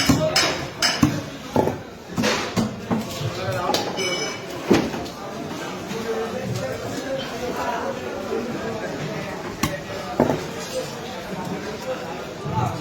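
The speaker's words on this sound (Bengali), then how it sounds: "দেখুন কেটে দিচ্ছে মাছ পিস করে সুন্দর করে।" Katla fish being chopped into round pieces at a busy fish market, with sharp irregular thuds of a blade striking a cutting surface amid loud crowd noise and people talking nearby.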